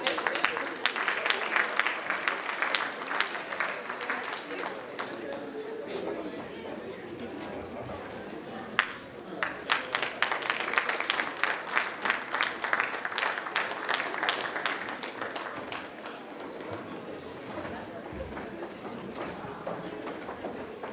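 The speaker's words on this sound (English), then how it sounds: "Round of applause for all our panelists." Audience applause for a panel of speakers at a youth leadership summit in Lesotho, a dense, steady wash of many hands clapping that holds at a fairly even level for about twenty seconds, with brief swells along the way.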